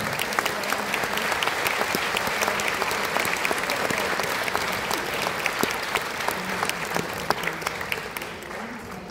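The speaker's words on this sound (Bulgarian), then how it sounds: "Аплодисменти за госпожа Динка Христова." An audience at a primary school's 75th anniversary concert gives a loud, sustained round of applause, dense clapping from many hands running evenly throughout without letting up.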